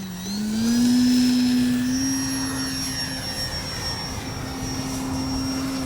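An E-flite Timber SE electric RC bush plane flies overhead, its motor a steady high whine that swells in pitch and loudness early, then holds a smooth continuous drone.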